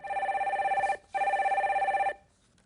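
A telephone rings twice while a call is put through on a phone-in stock advice broadcast. Each ring is a loud trilling burst of about a second, with a short gap between them and no talk.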